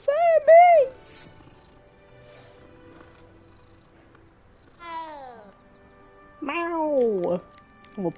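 A cat in a video game meows several times, with two quick calls at the start and longer, drawn-out meows later, set against a quiet background.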